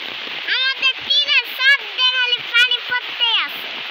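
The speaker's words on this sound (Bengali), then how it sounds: "অনেক জোরে বৃষ্টি হচ্ছে, এত ভালো লাগতেছে বৃষ্টি দেখতে" Heavy rain pours down in Joypurhat, Bangladesh, a steady wash of hiss heard beneath a child's lively, close chatter.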